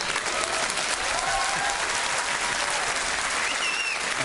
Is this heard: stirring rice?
no